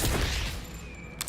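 Dense, loud burst of rapid automatic gunfire from a high-rate weapon in the Borderlands 4 video game, blending into a continuous roar that thins toward the end, with no voices.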